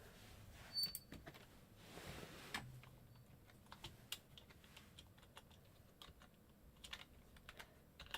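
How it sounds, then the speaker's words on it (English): Quiet, irregular clicking of keys on a computer keyboard, with short bursts of keystrokes and brief pauses and no talking. "I'm just gonna type this in."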